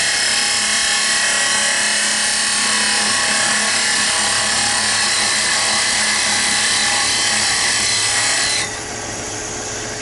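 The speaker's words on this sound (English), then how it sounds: "I take my skew chisel and just clean that very edge up here" A skew chisel cuts furniture-grade wood spinning on a lathe while a rolling pin is turned, a loud continuous hissing, rasping scrape that holds steady, then drops slightly quieter near the end, with no talking.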